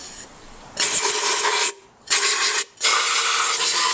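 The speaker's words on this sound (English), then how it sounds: "just blowing out the block just to make sure there's nothing in there that might get into the oil and affect the bearings" Compressed air from an airline blasts through the oil galleries of an engine block being prepared for rebuild, coming as loud hissing bursts that stop briefly twice, with no talking.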